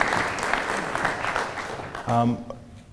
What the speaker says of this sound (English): let's give a round of applause for all the leadership